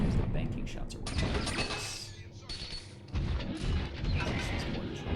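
Mortar fire in Tribes: Vengeance, several booming launches and impacts in irregular bursts alongside mechanical clanks, with voices talking over much of the action.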